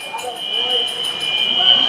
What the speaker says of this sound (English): And a fire alarm has gone off in the building.